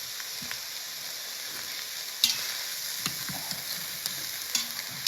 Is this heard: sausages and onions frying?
yes